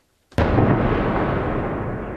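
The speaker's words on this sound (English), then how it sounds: "Loud explosions and fireballs in Kyiv." A single loud explosion bursts during a Russian attack on Kyiv, recorded for news: silence, then a sharp blast followed by a long rumbling decay.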